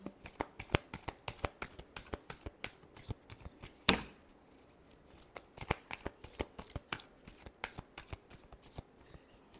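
A deck of tarot cards is shuffled by hand close up, giving a quick run of crisp riffling snaps and taps with one sharper slap partway through.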